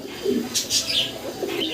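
Pigeons coo softly nearby, a few low throaty murmurs mixed with faint chirps, continuous and close.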